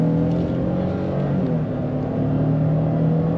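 A 2022 Nissan Frontier Pro-4X V6 pickup truck engine revs steadily under acceleration, a loud, continuous drone with a rising tone throughout and no talking.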